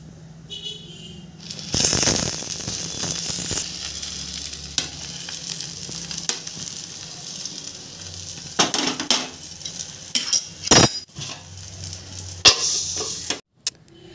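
Batter frying in mustard oil in a pan at home, a steady close sizzle with bursts of clatter and stirring scrapes, no talking.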